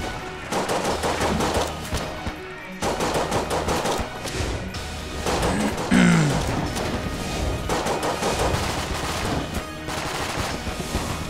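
Pistol fire from a single-action revolver in the video game Enter the Gungeon, rapid bursts of shots over busy game music and effects, with a brief louder impact near the middle.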